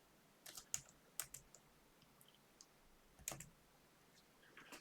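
A few faint, sparse clicks of keys on a computer keyboard, scattered keystrokes with short gaps, quiet against a soft background hiss.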